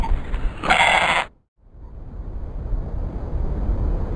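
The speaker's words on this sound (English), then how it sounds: "I see a goat" A goat bleats once, a loud, close, quavering call lasting under a second, then it stops and a steady low outdoor rumble of wind continues alone.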